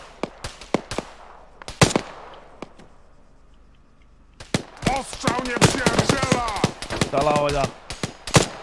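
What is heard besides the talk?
gunfire in a video game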